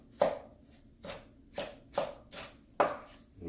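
Knife julienning vegetables on a cutting board: steady, evenly spaced chopping strokes, about six crisp close thuds at an unhurried rhythm, no talking.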